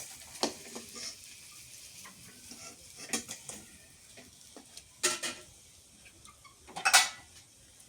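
Hilsa fish frying in a pan with green chillies and onion, a soft sizzle under scattered spatula stirs and sharp clinks of metal against the pan, with no voices.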